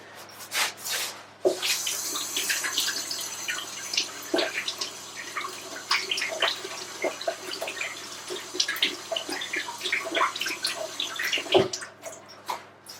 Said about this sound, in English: Okay, I have to wash my hands.